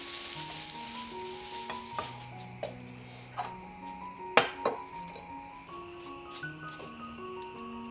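Butter being spread with a paper towel across a hot crêpe pan gives a soft, steady sizzle beneath gentle background music, punctuated by a few sharp clicks and light clinks.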